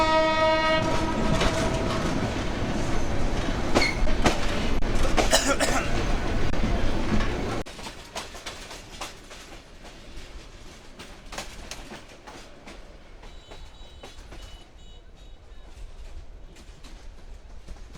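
The Kurigram Express pulls out of Airport railway station with a loud horn blast over rumbling wheels, then settles into quieter rhythmic rail clatter as it moves away, with some voices faintly present.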